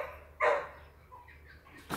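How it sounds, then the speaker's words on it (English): A dog barks nearby, one sharp bark early on and another short yip at the end, fairly faint against a quiet indoor background with no talking. "I think that's why my dog's barking."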